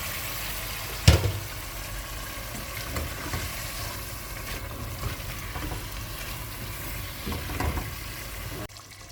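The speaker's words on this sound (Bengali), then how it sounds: "যে মুখি কষানো হয়ে গেছে" Spices frying in a pot for a hilsa fish curry give off a steady, soft sizzle, with a sharp clatter near the start and light stirring scrapes throughout.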